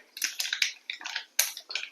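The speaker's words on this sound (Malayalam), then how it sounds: "കടുക് നന്നായി പൊട്ടുന്നുണ്ട്" Mustard seeds splutter in hot oil for a Palakkad-style sambar, giving quick bursts of sharp, dry crackling pops in irregular clusters, close and crisp with quiet gaps between bursts.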